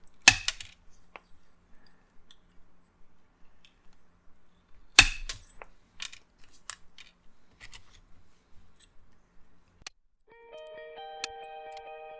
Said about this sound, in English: I'm going to cut those rounded ends off